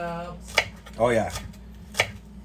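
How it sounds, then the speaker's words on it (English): Kitchen knife chopping green onions on a cutting board, three distinct crisp chops spaced about half a second apart, close and moderately loud, with brief voiced sounds in the background. "I'm going to cut the root ends off of the green onion pieces"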